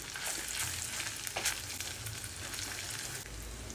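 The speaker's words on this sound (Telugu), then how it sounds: "మెల్లిగడ్డ ఉల్లిపాయలు బాగా వేగుతున్నాయి" Onions fry in a pan with a steady loud sizzle and the occasional scrape of stirring, alone and close throughout.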